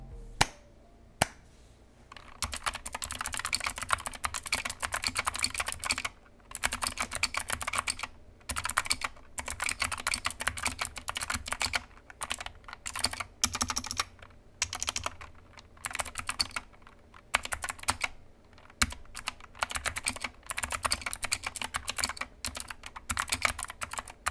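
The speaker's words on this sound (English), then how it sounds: "Blues are notoriously loud and very clicky, so that's why in this sound test it is going to be quite loud" Fast, loud clicky typing on a Yunzii SK64 mechanical keyboard with blue switches, crisp sharp keystrokes in continuous bursts with short pauses, close up and without talk.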